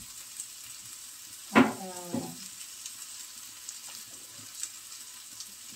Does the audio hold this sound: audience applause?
no